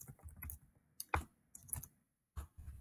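Computer keyboard typing in an office setting, a few sparse close clicks and short bursts of keystrokes separated by pauses, quiet and without speech.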